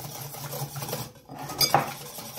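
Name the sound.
whisking egg and sugar in a bowl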